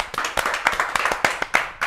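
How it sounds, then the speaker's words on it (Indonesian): A studio audience on an Indonesian talk show claps to welcome a guest, a run of sharp, fairly close handclaps in an uneven rhythm with a few distinct slaps standing out. "Tepuk tangan dong"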